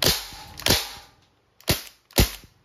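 A Crosman 1077 .177-calibre CO2-powered air rifle fires four sharp, close cracks in quick succession, the first two close together, then a pause, then two more, each ending in a short hiss.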